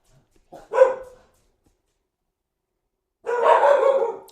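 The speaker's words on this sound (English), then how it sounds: "Uh-oh, there go the dogs." Dogs bark nearby in two loud bursts: a short yip-like bark, a pause of silence, then a longer stretch of rough, overlapping barking.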